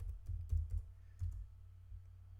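Faint typing on a computer keyboard, a handful of soft, close key clicks in two brief bursts over a quiet background.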